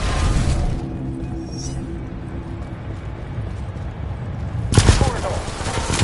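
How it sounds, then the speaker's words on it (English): Automated turrets open fire in Titanfall 2, heard as loud bursts of rapid gunfire at the start and again near the end, with a game voice talking in the quieter stretch between. "Activating turrets at south."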